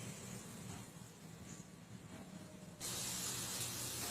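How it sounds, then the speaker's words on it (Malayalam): Steady steam hiss from a pressure cooker used to steam puttu, suddenly growing louder and brighter partway through, with no voices. "ഹായ് ആവി വന്ന് തുടങ്ങി"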